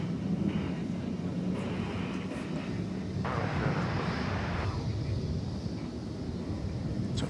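Airplane at DFW airport heard at night as a steady, loud engine roar that swells and fades over several seconds, with wind noise on the microphone.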